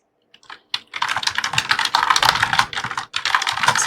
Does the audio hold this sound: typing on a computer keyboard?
yes